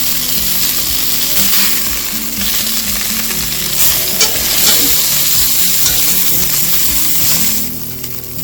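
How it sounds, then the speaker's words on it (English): Rack of lamb sizzles loudly and steadily as it pan-fries in a hot skillet, with occasional light scraping and stirring sounds over the constant frying hiss. "this pan frying helps too"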